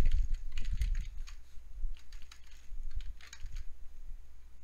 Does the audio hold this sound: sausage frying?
no